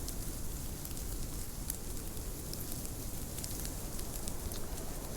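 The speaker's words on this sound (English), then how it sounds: "I can hear a ton of rain in the background" Steady rain in the PSVR game Blind Spot, a continuous broadband hiss of drops on surfaces that stays even and fairly quiet throughout, with no talk over it.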